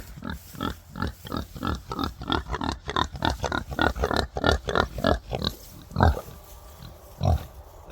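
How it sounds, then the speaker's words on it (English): Pigs on a small farm grunting in a steady rapid series of close, loud oinks, with a couple of deeper grunts toward the end. "Pig."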